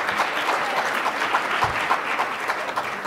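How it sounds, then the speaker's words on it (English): Brief, steady applause from a conference panel audience, dense even clapping throughout with no voices. "we could also give another round of applause"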